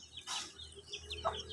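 Soft, short clucks from chickens nearby, a few scattered calls over quiet background hum.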